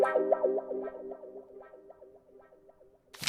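A vintage-style music sample runs through a wet effect plug-in in FL Studio, giving repeating warbly, echoing tones that fade and then end in a brief burst.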